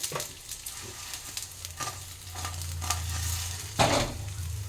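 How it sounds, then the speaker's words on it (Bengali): Bitter gourd pieces frying in a little oil, moved around in the pan with repeated scraping and tapping stirs over a quiet sizzle, ending in a louder scrape, close by. "ভাজছি আমি।"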